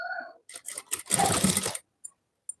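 A sewing machine stitches a cross belt in a short, loud burst of rapid mechanical whirring lasting about a second, followed by two faint, brief clicks.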